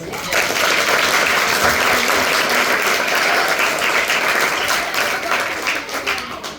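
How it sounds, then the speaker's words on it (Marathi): Loud, sustained applause from an audience at a nursing college event marking World Cancer Day, many hands clapping at once in a steady wash that tapers slightly toward the end. "एकदा जोरदार टाळ्या"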